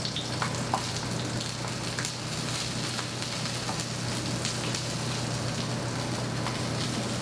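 Salmon fries skin-side down in a hot pan, giving off a steady, even sizzle with small crackles and pops throughout.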